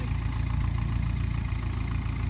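A tractor engine runs steadily at idle nearby, a continuous low rumble with no changes in revving.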